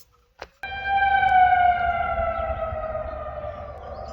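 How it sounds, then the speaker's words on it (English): Civil defense warning sirens begin outdoors after a brief knock, a sustained wailing tone that slowly falls in pitch, distant but clear and steady, with no talking. "Okay, the sirens are still going off."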